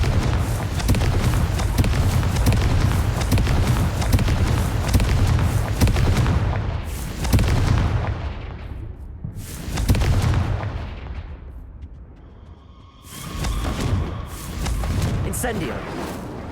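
Fiery spell blasts from Confringo and Incendio in the video game Hogwarts Legacy, loud booming explosions in a dense rolling barrage with brief lulls, then a fresh burst of blasts near the end.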